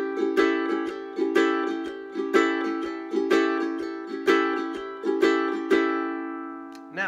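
A ukulele is strummed in shuffled eighth notes, giving a lopsided long-short swing rhythm of bright chord strokes heard alone, ending with a final strum.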